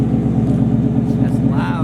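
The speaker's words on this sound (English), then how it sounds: "the Mustang GT sounds really good" A 2019 Ford Mustang GT with a newly installed exhaust idles with a steady, deep, pulsing burble close by, while people talk over it.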